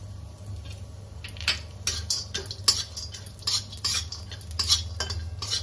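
Cashew and almond slivers roasting in ghee in a kadai, a spoon stirring and clinking against the metal in irregular bursts over a faint low hum, with barely any sizzle.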